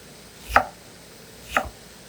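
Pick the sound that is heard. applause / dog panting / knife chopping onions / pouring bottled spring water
knife chopping onions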